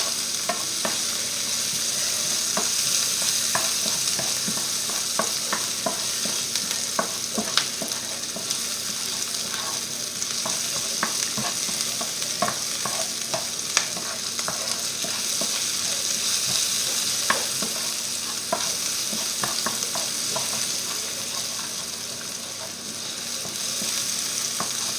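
Onions sauté in a pan with a continuous frying sizzle, broken by repeated scraping strokes of a spoon stirring them, close and fairly loud with no talk.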